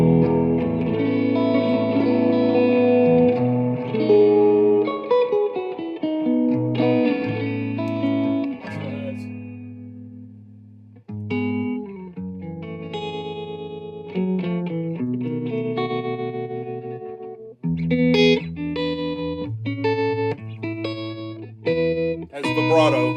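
Electric guitar played through a 1950s tube amp with heavy reverb: chords and picked notes ring out and decay, with pauses between phrases and a loud, steady tone throughout.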